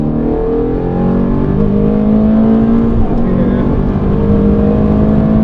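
Ferrari engine at full power on the Mondello Park track, a loud, steady, close-up roar with a rising harmonic drone and no breaks.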